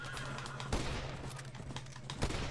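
Two sharp gunshots in Red Dead Redemption, spaced apart over a busy background of game noise, no talking.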